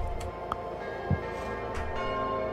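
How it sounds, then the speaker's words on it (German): Church bells ring in the Kingdom New Lands video game, a sustained, resonant tolling that rings on under a low ambient bed, with no talking. "Okay, und jetzt haben wir die Kirchenglocken."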